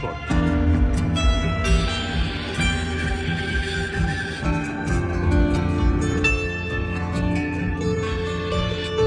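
A bandura plays bright plucked notes over a rich, ringing harmonic bed, with crisp attacks scattered through a busy, sustained passage.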